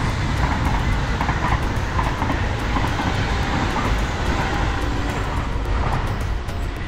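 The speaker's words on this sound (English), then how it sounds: "that was one of the ICE trains, so one of the higher speed trains in the area." A German ICE high-speed train rushes past near Utrecht, a loud, steady broadband roar with faint rhythmic wheel clatter that holds for the whole stretch, close by and never letting up.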